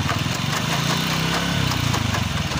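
Motorcycle engine runs with a faulty gearbox and a chain that moves violently, giving a loud, close, rough idling chug with a steady pulsing rhythm and rattling texture, no talk over it.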